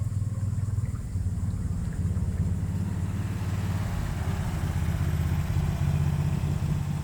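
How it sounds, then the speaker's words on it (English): A passing car gives a steady low engine and tire rumble that holds at an even level throughout, with no voices. "Sorry, car went by."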